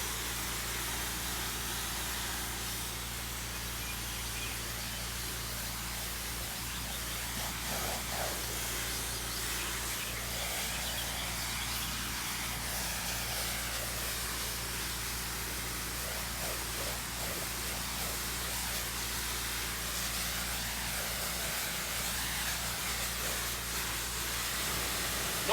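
Steady broadband hiss of a water spray rinsing painted house siding from top to bottom, continuous and fairly loud for the whole stretch, with no talk over it.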